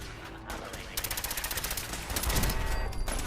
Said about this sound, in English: Laser turrets? Are you serious?